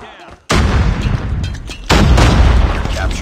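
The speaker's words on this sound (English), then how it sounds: "Grenade out!" Call of Duty gameplay with a loud grenade-like blast and heavy gunfire: a sudden burst at half a second, a second surge near two seconds, then sustained close, dense booming and shooting to the end.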